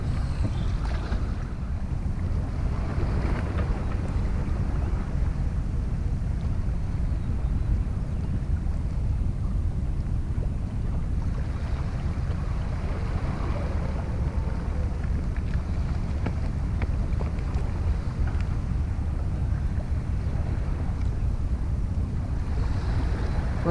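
Beach surf and wind in the early morning at a shore fishing spot in Goa, India: a steady, loud wash of waves with gusty wind noise buffeting the microphone throughout, no voices.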